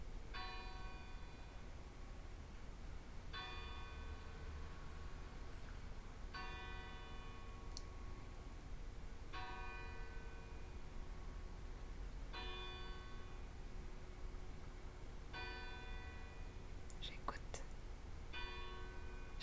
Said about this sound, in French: Ah, les cloches de l'Église.